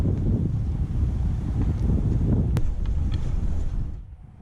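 Wind gusts over an outdoor tennis court in Shanghai, buffeting the microphone with a loud, continuous low rumble that drops away abruptly near the end.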